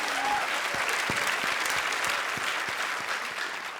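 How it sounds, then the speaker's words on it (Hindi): Studio audience at a comedy show bursts into sustained applause, a thick wash of many clapping hands with a few louder claps standing out, briefly overlapping a voice at the start. "एक बार तालियां।"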